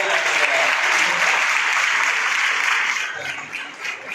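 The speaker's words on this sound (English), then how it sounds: "Give a big clap to Navya." An audience at a college job-awareness seminar in Nizamabad claps for Navya, a dense, loud round of applause that holds steady for several seconds and then thins slightly near the end.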